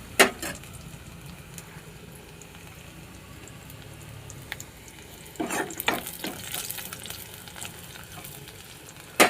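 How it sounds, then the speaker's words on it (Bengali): Onions fry in a pan with a soft, steady sizzle, broken by a few sharper clinks and scraping bursts of stirring; fairly quiet, no talking. "এখন পেঁয়াজগুলো ভাজতেছি।"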